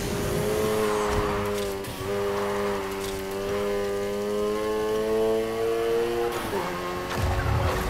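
A car sliding in Need for Speed Heat, its tires squealing in a long sustained howl under a revving engine, loud and close, with a burst of engine noise at the end.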